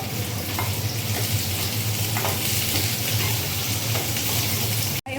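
Onion and chili frying in a little oil give a steady, dense sizzle with faint stirring, close and continuous until a brief cut near the end.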